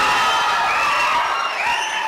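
Tamil speech-event audience cheering and clapping, a dense sustained crowd roar with whoops filling the hall at steady volume throughout.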